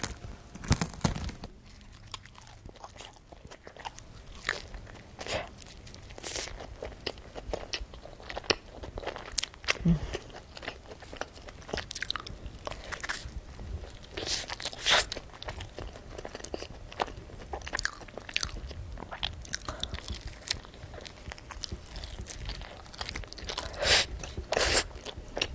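Close-miked ASMR bites and chews of crunchy pizza: crisp crust cracking in repeated bites, then wet, steady chewing with crinkles from handling, throughout with no talking.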